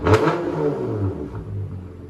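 A BMW M3 with a 3.0-litre twin-turbo inline-six revs loudly, with a strong low rumble that swells and then eases over a couple of seconds.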